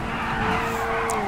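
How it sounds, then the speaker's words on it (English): A vintage car drifting on a mega ramp in GTA 5 gives a steady, sustained tire squeal over engine hum, loud and continuous without pause. "crazy drifting, bro."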